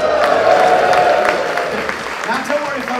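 Outdoor crowd at a fire-eating street show in Cromer clapping and cheering, loudest at first and then thinning out, with voices talking over the tail.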